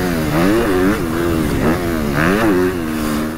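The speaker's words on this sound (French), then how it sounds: "Le moteur d'origine avec simplement la ligne AGS." Honda CRF 250 dirt bike with a stock engine and an AGS exhaust line, revving and shifting up and down in loud, close, continuous bursts with no talking.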